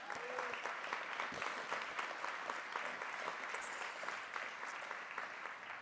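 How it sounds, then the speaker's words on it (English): An audience at a business conference presentation applauding, a steady, moderately distant patter of clapping sustained for several seconds without a clear peak. "Shall we give these guys a round of applause?"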